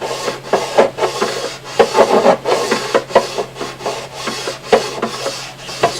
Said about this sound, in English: You can hear the file sound of it change.